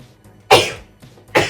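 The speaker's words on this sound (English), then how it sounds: "going to sneeze." Two sharp sneezes a runner lets out before a 10k race, close and loud, about a second apart, each a sudden burst that fades quickly.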